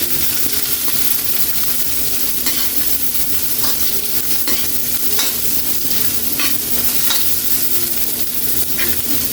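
Garlic and onion sauté in a hot pan with ginger, a loud continuous sizzle broken by repeated scraping stirs, close up.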